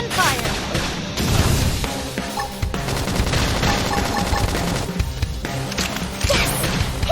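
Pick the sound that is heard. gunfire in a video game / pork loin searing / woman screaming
gunfire in a video game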